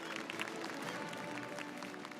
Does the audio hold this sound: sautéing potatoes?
no